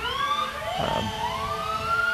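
A fire truck siren wails with rising and falling tones as it passes in a fall festival parade, loud and nearby over a low engine rumble.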